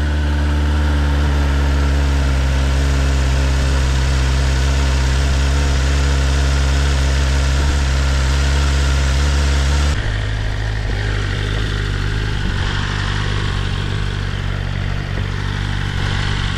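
A BMW S 1000 RR sport motorcycle's inline-four engine runs loud and close at a steady idle, its tone shifting midway as the revs change slightly, with no voices over it.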